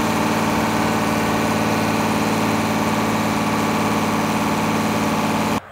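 A turbocharged tractor engine runs loud and steady under load on a dynamometer with a deep, even rumble and rhythmic vibration, then cuts off abruptly at the end.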